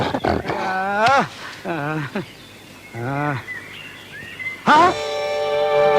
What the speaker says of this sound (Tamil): ஐயோ, கரடி